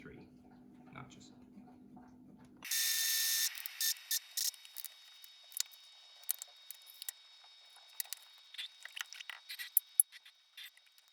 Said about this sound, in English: I'm going to take it down another 3 notches.